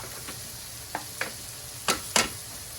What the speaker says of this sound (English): All right, the onions are ready. As you can see, I actually tossed in a sausage, cook it at the same time.